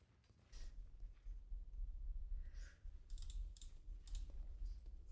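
Keyboard typing during a Path of Exile gaming session, with scattered clicky keystrokes in short bursts over a steady low hum, fairly faint and without speech.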